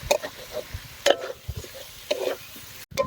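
Mutton fat and spices fry quietly in a pan while being stirred, with a faint sizzle under a few distinct scraping and clinking strokes of the spoon at uneven intervals.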